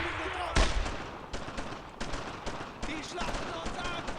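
Gunfire in the World War II shooter Brothers in Arms: Road to Hill 30, with a sharp loud shot followed by a string of irregular rifle and machine gun bursts over battlefield noise.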